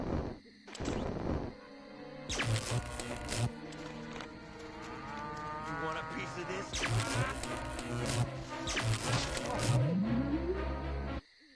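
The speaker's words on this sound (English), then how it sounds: "Clearly they've genetically altered these pathetic gas bags and turned them into radioactive exploding zombie cows!" Mooing from radioactive exploding zombie cows in the PS2 game Destroy All Humans, mixed with game music, crashes and effects; loud, continuous and busy throughout.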